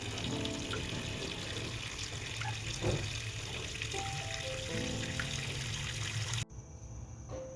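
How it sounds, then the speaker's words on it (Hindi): Water runs steadily into a cooking pot of turmeric, a continuous close trickle and splash that stops abruptly near the end. "पतीले में डालने के बाद आपने पतीले में पानी डालना शुरू कर देना है।"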